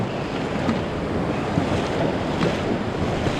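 Mountain valley stream in Gangwon-do running full, a steady dense rush of water heard up close and loud, unbroken for the whole stretch with no voices.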